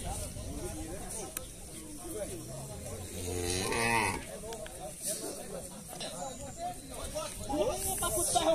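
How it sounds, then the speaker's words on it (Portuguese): Cattle at a livestock fair in Estrela de Alagoas, in Brazil's northeast, low moos rising among crowd chatter and ambient bustle, with people talking nearby throughout. "Esse vídeo aqui é mais pra mostrar aqui o gado"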